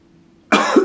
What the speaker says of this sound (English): I'm still fighting the cough.